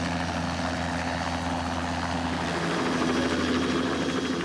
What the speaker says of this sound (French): on entend comme un bruit d'hélicoptère